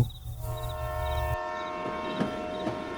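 A train rumbles nearby, then the rumble drops away as a sustained horn-like tone lingers with faint clatter behind it.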